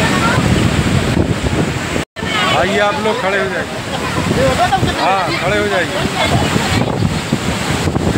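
Water released from a dam at Lalitpur roars in a steady, loud broadband rush, with a crowd of onlookers nearby and people talking and calling out over it throughout.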